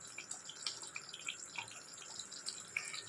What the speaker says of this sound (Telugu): ఇప్పుడు లాస్ట్లో కొంచెం కొత్తిమీర అయితే కడిగేసి